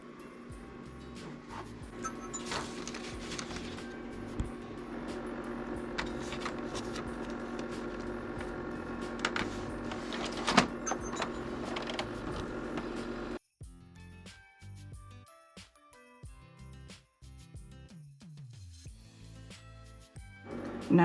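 A Cricut cutting machine slicing paper during calibration, a continuous mechanical whir and buzz with motor tones, then a quieter stretch of stepping, clicking carriage movements.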